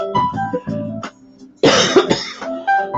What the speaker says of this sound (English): I will get overheated and start coughing.